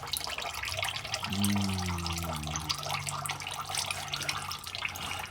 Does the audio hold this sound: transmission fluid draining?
yes